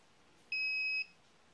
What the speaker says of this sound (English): And you'll hear a beep if it was successful.